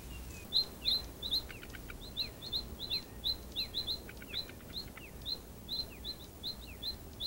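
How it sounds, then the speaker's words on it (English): A Johnstone's bush robin in Taiwan calls over and over, bright high chirps repeating in quick, energetic phrases against a quiet background. "the Johnstone's bush robin, which energetically expresses itself and calls at you repeatedly"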